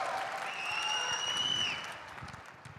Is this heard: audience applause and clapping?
yes